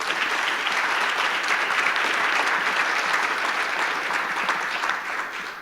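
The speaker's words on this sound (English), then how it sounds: "You might want to give them a round of applause now." An audience breaks into sustained applause, a dense, even wash of clapping that holds steady for several seconds before tapering slightly at the end.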